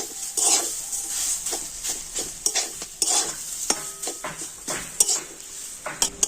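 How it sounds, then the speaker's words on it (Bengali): Potatoes and spiced vegetables stir-fried in a pan, with a steady sizzle broken by repeated scraping strokes and clinks of a utensil against the metal, close and continuous without talk. "আলুর সাথে সমস্ত মশলার সবজিগুলো খুব ভালো করে আমি কষে নেব"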